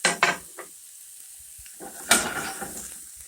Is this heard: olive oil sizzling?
yes